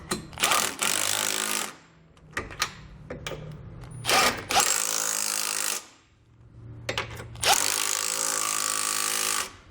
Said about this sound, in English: Now we can start to tighten down all of our 3 bolts here on the outside body of our vehicle